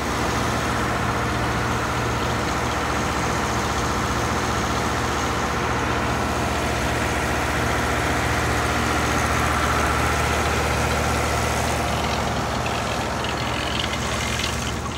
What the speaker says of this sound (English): It's a cable ferry. So the cable is pulling us in, also powered by the engine right here.